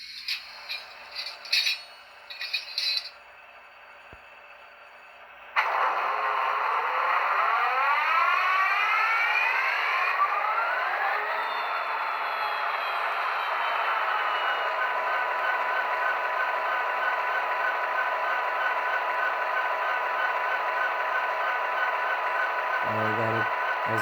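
Startup sequence from an HO scale Athearn Genesis CSX SD80MAC model locomotive's sound decoder: after brief clicks and a pause, a diesel engine rumble cranks up with rising whine and settles into a steady idle, fairly close and without talk.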